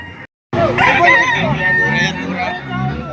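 Rooster crowing loudly and close at a gamefowl market in Padre Garcia, Batangas, one long strained crow with fowl clucking and market noise underneath.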